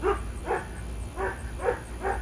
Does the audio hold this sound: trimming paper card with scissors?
no